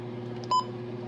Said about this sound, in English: Button beeps. I might turn that off. It's loud.